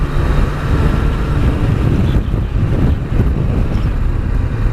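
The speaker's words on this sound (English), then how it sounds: "it's getting a bit windy up here now" Strong wind buffets the microphone near the top of a mountain peak on Gran Canaria during a motorcycle ride, a loud, steady roar with no voices.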